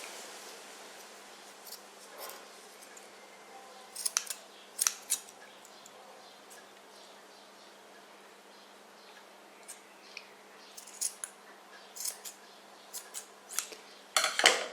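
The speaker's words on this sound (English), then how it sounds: "So we take our scissors, cut off the loops," Scattered sharp snips of scissors cutting tassel loops on Greek worry beads, irregular and quiet, coming in small bursts with pauses between them.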